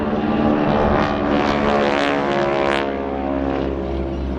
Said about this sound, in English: Instead of 130 horsepower, these are 480 horsepower Pratt & Whitney engines.